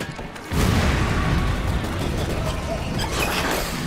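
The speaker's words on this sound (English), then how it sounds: "I'm throwing an incendiary grenade at it." An incendiary grenade bursts in Resident Evil 6 with a sudden loud whoosh that becomes a steady, dense roar of burning, close and continuous to the end.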